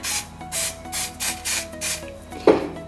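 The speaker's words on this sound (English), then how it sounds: "open up the waffle iron here and spray it with some coconut oil" Rhythmic bursts of coconut oil cooking spray onto an open waffle iron hiss about seven times in quick succession, ending with a light clack.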